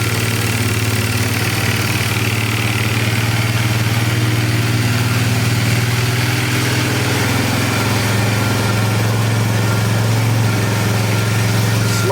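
A trashed Polaris 325 Magnum four-wheeler engine running after a first start, a loud, steady idle with a constant low drone and no pauses.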